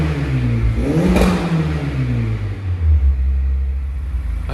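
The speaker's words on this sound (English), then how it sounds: "So we've let the vehicle warm up and we'll just hear how it sounds." Close idle and revving of a warmed-up Mazda MX-5 2.0 Sport engine, a steady low rumble with a rising and falling rev around the middle that then settles back to a smooth idle.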